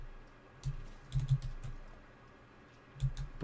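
Soft keyboard typing in the video game Alien Isolation, a few irregular muffled clicks with a small cluster in the middle and another pair near the end, close but quiet over a faint steady background hum.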